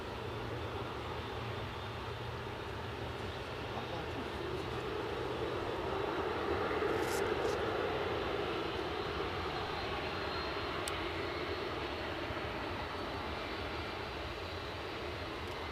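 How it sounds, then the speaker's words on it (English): A Ryanair Boeing 737 MAX 8 on final approach into Edinburgh airport from Dublin produces a steady, distant broadband jet roar that swells slightly in the middle and then holds level. "our next arrival, a Ryanair 737 MAX 8 from Dublin"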